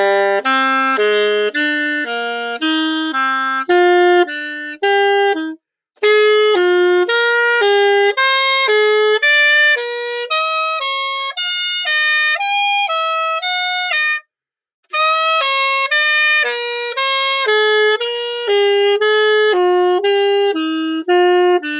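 A solo horn plays a warm-up scale exercise in a reversed note pattern, with a steady stepwise run of sustained tones and two brief pauses in between. The playing is clear and close, with no talking.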